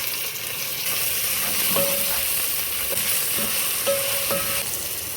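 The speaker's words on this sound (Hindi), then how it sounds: "हम इसे बिल्कुल हल्का सा सौटे करेंगे।" Spice paste for dhaba-style dal mash sautéing in a pan, a steady close sizzle and frying hiss with a few soft stirring scrapes and clinks throughout.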